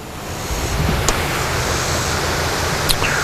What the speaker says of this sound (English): The Seaville waterfall's right there.